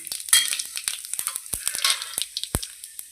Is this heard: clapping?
no